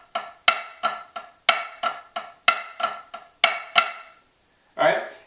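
Snare drum playing a flam accent pattern with low flams on the downbeats, crisp rhythmic strokes in a steady triplet feel, close and loud, stopping before a brief spoken phrase at the end.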